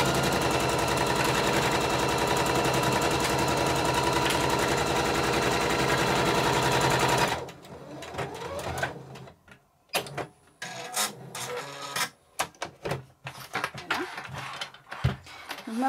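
A sewing machine runs steadily and loudly while stitching an assembly seam in fabric for a cloth mask storage pouch, then stops, leaving scattered handling clicks and rustles.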